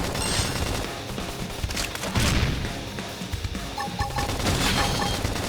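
Rapid gunfire from a squad in the video game Xenoblade Chronicles X, dense overlapping bursts of shots and impacts crackling continuously, loud and close, with faint electronic tones near the end.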